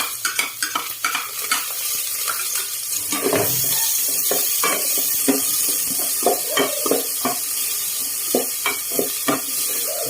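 Onions fry in a pan for an Ilocano beef papaitan, giving a steady close sizzle with frequent sharp scrapes and clatters of a spatula stirring against the pan.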